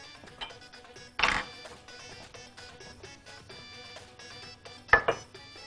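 Metal baking trays being handled while oiled, with two bright metallic clanks standing out over quiet kitchen background, scattered lighter taps between them, close and without speech.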